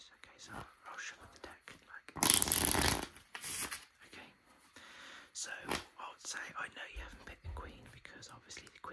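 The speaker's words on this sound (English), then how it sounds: "Give it a few cuts. And I think a shuffle as well." A deck of playing cards is shuffled in one loud, close rustling burst during an ASMR magic trick, with soft whispering before and after.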